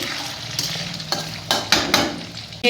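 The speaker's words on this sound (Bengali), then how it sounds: "মাছ ভাজা চলছে, মাছের মাথা ভাজা বসিয়ে দিয়েছি।" Fish pieces and a fish head frying in a pan, with a continuous close sizzle broken by several sharp scrapes and knocks of a spatula.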